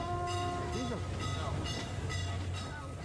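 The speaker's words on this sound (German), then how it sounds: "Unser Zug ist bereits am vereinseigenen Bahnhof in Leeborg-Heintrop angekommen." A museum steam train shunts at a heritage railway station, with a steady low rumble of the locomotive and clanking, squealing railcar sounds close by and continuous.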